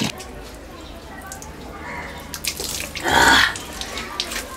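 Water pours steadily from a household tap supplied by the Melamchi water project in Kathmandu, with a louder gush near the end; background voices murmur faintly underneath.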